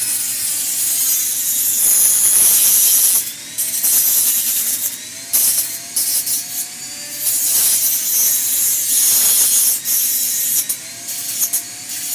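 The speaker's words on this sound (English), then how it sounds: "Little final sanding now." Rhythmic rasping strokes of hand sanding on wood, back and forth in steady bursts, close and fairly loud.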